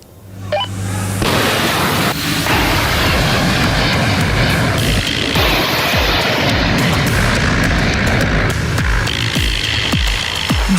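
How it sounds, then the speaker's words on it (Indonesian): F/A-18 Super Hornet fighter jets launch from the US aircraft carrier Abraham Lincoln in the Strait of Hormuz region, a loud, sustained roar of jet engines with clanks and thuds on deck. "Jet tempur Super Hornets lepas landas dari kapal induk Amerika Serikat Abraham Lincoln"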